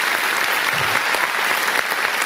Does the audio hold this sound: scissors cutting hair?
no